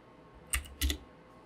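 Two short bursts of computer keyboard typing, close and fairly quiet, separated by a brief pause, in a quiet room with a Windows Server 2012/2016 computer.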